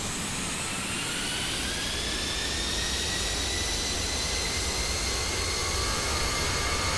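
Steady, loud roar of an Aerosoft A320 jet engine in a flight simulator game, a continuous broadband rush with rising whining tones sweeping slowly upward, unbroken and close throughout.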